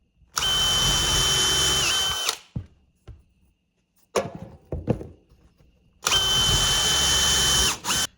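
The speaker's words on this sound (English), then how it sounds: "Just countersinking the holes so it's nice and neat for the screws." A power drill runs a countersink bit into screw holes on a whiskey barrel, two sustained whirring bursts of about two seconds each with brief clunks and handling knocks between them, close and loud.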